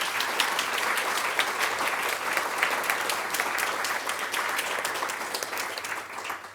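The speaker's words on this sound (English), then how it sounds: "So a big round of applause" Applause from an audience at a career forum event fills the room, dense and steady throughout, without a break, fading slightly near the end.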